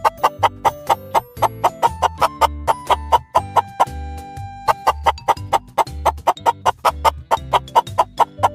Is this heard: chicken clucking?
yes